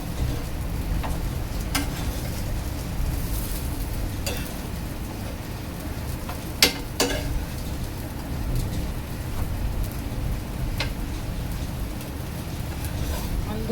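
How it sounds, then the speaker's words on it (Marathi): Sweet potato patties (tikki) fry in oil in a pan over low gas, a continuous soft crackling sizzle like light rain with occasional sharper pops, steady and close, while someone talks over it. "आपले ह्या टिक्क्या आहेत ना व्यवस्थितरित्या खरपूस रंग येईपर्यंत स्लो गॅसवर चांगल्या तळून घ्यायचे आहेत"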